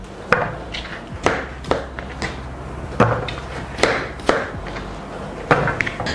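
A knife chops through firm vegetable flesh onto a board in a series of sharp, uneven thuds, close up with no talking.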